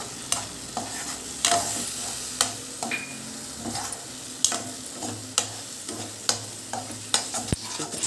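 Spinach paste for palak fries on a low flame with a soft continuous sizzle, punctuated by regular sharp scrapes and taps of a spatula stirring the pan.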